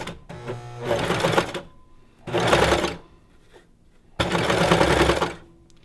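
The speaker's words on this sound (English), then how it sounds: "a serger basically is just a machine that cuts at the same time and finishes off the edges" A serger sewing machine trims and finishes fabric edges near ruffles in three short bursts of fast, buzzing stitching with quiet pauses between, loud and close with no talk.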